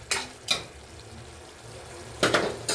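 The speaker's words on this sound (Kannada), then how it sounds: "ಸ್ವಲ್ಪ ಫ್ರೈ ಆಗ್ತಾ ಇದೆ ಟೊಮೆಟೊ ಕೂಡ." Tomatoes frying in a pan for vegetable biryani, with a few short bursts of stirring and sizzling scrapes separated by quieter stretches of low simmer.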